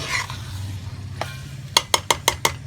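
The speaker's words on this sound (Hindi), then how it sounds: "अब इसको हम हल्का सा मिक्स करते जाएंगे 1-2 मिनट के लिए" Chana dal with spices is stirred in a pan for a dhaba-style dal tadka: a soft sizzle and scraping, then five sharp, evenly spaced clinks of a spoon against the pan near the end, with no talking.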